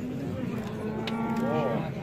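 Young bulls at a livestock market low in a drawn-out moo that wavers in pitch near the end. A single close call sounds over a steady bed of market crowd noise.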